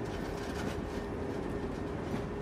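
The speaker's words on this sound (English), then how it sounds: "the train sets off again" The Orient Silk Road Express pulls out of Samarkand station with a steady, close rumble of rolling railcars, a continuous low drone without pauses and no voices.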